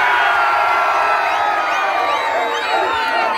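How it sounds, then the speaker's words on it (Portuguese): A carnival crowd at a street bloco in Conceição, Paraíba, cheers and whoops loudly and continuously, with many overlapping shouting voices close around. "Grito pra Galega!"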